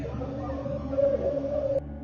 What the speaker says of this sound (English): get him a tape of whale sounds